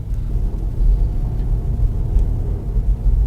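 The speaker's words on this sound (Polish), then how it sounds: "Silnik słychać, no też jest zimny" A steady low engine rumble from a cold 2017 Hyundai Ioniq Hybrid, constant and fairly loud, with no voices.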